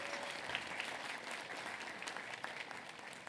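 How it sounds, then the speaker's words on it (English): Applause for a board president at a justice breakfast event, a steady wash of clapping from a modest crowd, fairly soft and continuous without a break from start to finish. "Could we have another round of applause for our board president?"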